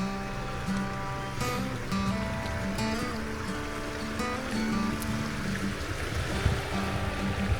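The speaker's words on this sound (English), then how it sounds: "The sounds, you know, the creek and birds and everything" A creek runs over rocks in the woods, its water flowing in a steady, soft rush. Faint tones drift through the background.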